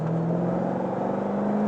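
A powerful car engine pulls steadily as it is driven through the gears, a smooth rising whir with the pitch climbing under acceleration, heard from inside and with no talk.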